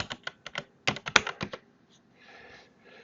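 A computer keyboard is typed on in quick bursts of crisp, close clicks, followed by a short quiet stretch with faint noise.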